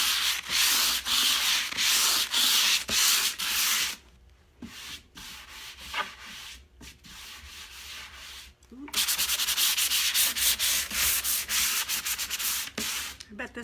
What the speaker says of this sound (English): I'm just going to put it on a little sanding block here.